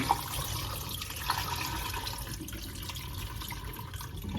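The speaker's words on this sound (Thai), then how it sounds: "สาวเบา ๆ แล้วก็เทน้ำออกให้หมดเลยค่ะ" Soaking water is poured off sticky rice after a four-hour soak, giving a steady, moderately loud wash of running and splashing water that continues throughout.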